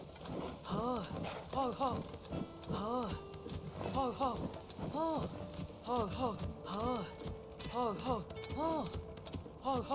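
The golden horse in Zelda: Tears of the Kingdom trots with steady, rhythmic hoof clip-clops in a quick repeating pattern, fairly quiet, over soft game ambience.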